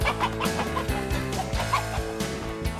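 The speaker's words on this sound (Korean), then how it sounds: "산중의 고요함을 깨는 분주한 움직임. 재빠른 닭들은 순식간에 숲속으로 자취를 감춰버렸는데요." Chickens clucking and scurrying through a mountain forest, a busy run of close, repeated clucks and squawks over a steady bed of rustling movement, with no speech.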